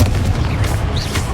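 A Confringo spell blast in the video game Hogwarts Legacy, a loud, deep booming burst with a rumbling low end that fills the short moment.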